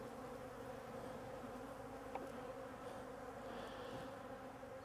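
Honey bees buzzing around an opened double-deep hive during a spring inspection, a dense continuous drone that stays close and steady throughout with no talking.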